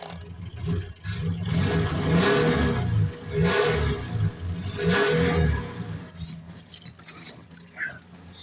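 A GAZ-24 Volga that had stood unused for many years runs with its engine revving up and down in a few surges, a close, rumbling drone with a voice talking over it.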